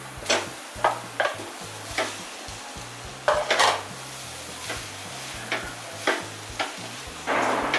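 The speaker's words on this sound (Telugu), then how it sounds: "ఈ మిశ్రమం అంతా బాగా రైస్కి పట్టేటట్టు కలుపుకోవాలి." Cooked rice is tossed with mint masala in a pan. A faint background sizzle runs throughout, broken by irregular clinks and scrapes of a spoon against metal. No voices.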